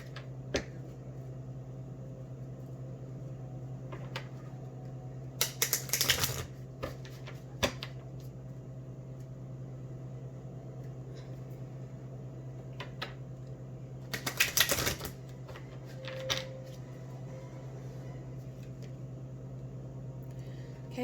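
Angel oracle cards being shuffled and picked, two quick flurries of soft riffling and flicking separated by a few light taps, faint against a steady low hum in a quiet room.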